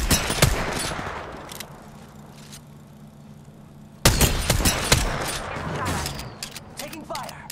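Gunfire in the Apex Legends battle royale game, with a 30-30 Repeater marksman rifle: sharp shots crack near the start, then a loud burst of rapid shots from about four seconds onward over game ambience, with voices talking throughout.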